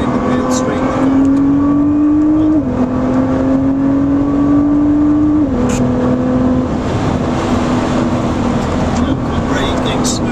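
A Nissan GT-R R35 accelerates around the Oulton Park race track, engine droning loudly with rising pitch that drops at each gear change, heard from inside the car under an instructor's talk.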